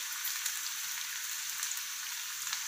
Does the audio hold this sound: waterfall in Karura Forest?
no